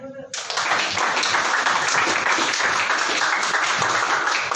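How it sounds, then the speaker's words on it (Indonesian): An audience in a classroom lesson bursts into loud, dense clapping after a brief quiet start, with sustained applause running through to the end. "Beri aplaus dulu"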